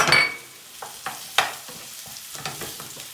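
Potatoes sauté in a pan with chili flakes, a soft sizzle under scraping stirs and several distinct utensil knocks, close and fairly loud.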